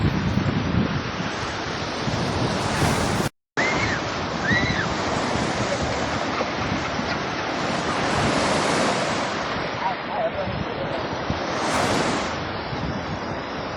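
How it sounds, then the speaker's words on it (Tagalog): Loud ocean surf at high tide rolls and crashes continuously with wind buffeting the microphone, swelling in a few bigger surges. "High tide pala ang dagat niya."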